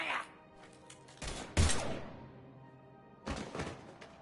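Gunfire in the Mass Effect game rings out in a few sharp, heavy bursts with quiet gaps between, fairly faint overall, with a brief voice at the start.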